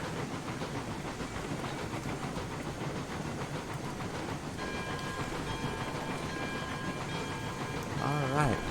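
A Mogul steam locomotive in the video game Railroads Online rolls along its track with a continuous rumbling chug and rhythmic clatter, with a brief whistle-like tone swelling near the end.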